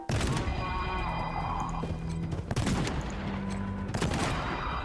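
Gunfire in Wasteland 3 crackles in repeated volleys of sharp shots and bursts, loud and close, spread through several seconds of combat with sharp impacts between the volleys.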